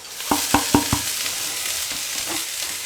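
Chhechi shak greens added to a pan of boiled potatoes, four sharp stirring knocks close up over a steady frying sizzle that continues alone afterward.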